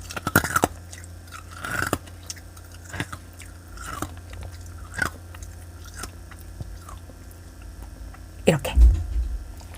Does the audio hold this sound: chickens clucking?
no